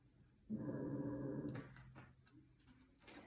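A person imitates a dog's low growl during a children's yoga story time, one sustained rumbling growl lasting about a second, followed by quieter sounds.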